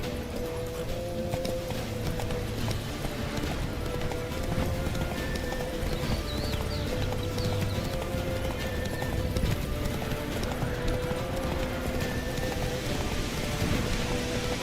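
A horse's hooves clip-clop in a steady trotting rhythm in The Witcher 3, with rain pattering over it and a brief whinny; the game's ambience is busy, with no talk.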